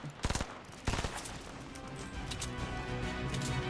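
Gunfire in Fortnite Battle Royale: two sharp bursts of rapid shots early on, followed by a steady stream of quieter, busy game action and distant shots.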